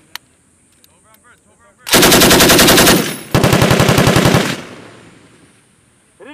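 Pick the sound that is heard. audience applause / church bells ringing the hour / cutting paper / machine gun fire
machine gun fire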